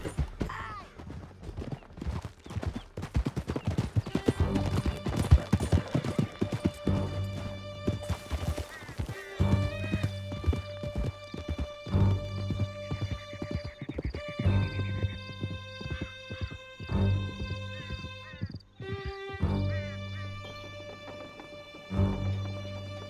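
Horse hooves gallop in a rapid, steady clip-clop in the Red Dead Redemption 2 video game, loud and close, with a horse's whinny, gunfire and an orchestral music score over the hoofbeats.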